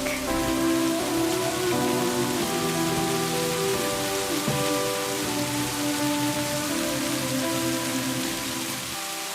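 Rain falling steadily on a surface, a continuous patter with faint tonal hum beneath, no voices present.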